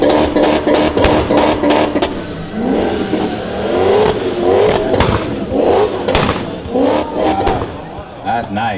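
An older gray BMW E30 revs its engine repeatedly at a large BMW car show in Southern California, with bursts of throttle and crowd chatter and voices around it.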